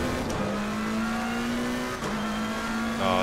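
BMW race car at Spa-Francorchamps on track, a loud sustained engine drone whose pitch climbs through gears with brief dips at shifts, close and continuous without talk.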